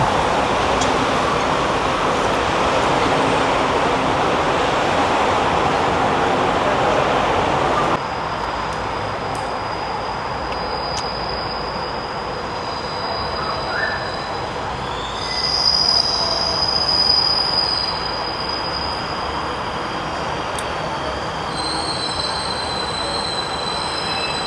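An MRT train at Fatmawati station in Jakarta, with loud continuous rumble and high wheel squeal, the roar dropping midway into quieter running noise and tonal whines.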